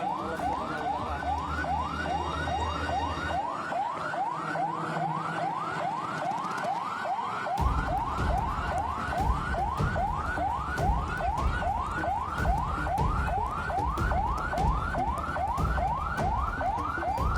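Ambulance sirens wail in a fast, steady repeating rise-and-fall pattern at a road accident evacuation involving a truck and a minibus, loud and continuous, with traffic rumble underneath that thickens partway through; no talking.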